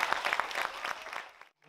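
A short burst of applause, a small crowd clapping quickly and fading out before a brief pause.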